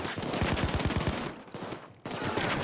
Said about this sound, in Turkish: kime denk gelsin sıkıyorum şu anda